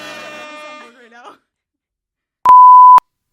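A soundboard bleep effect: a single loud pure electronic tone lasting about half a second, sounding alone after a stretch of people talking and a short silence.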